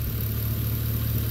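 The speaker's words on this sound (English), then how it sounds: "the wheel on the roller, I don't think it's working correctly, making that screeching noise" Idling 2011 Chevrolet Caprice PPV with the L77 V8, a faulty lifter roller giving a steady engine hum with a faint repeating chirp-like tick, close and continuous.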